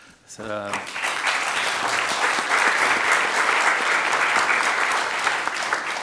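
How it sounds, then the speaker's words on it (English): At the close of a conference session on energy distribution, a brief voice gives way to loud, full audience applause that swells quickly and holds steady and dense to the end. "I would like to ask you to applaud."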